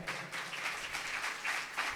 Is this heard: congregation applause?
yes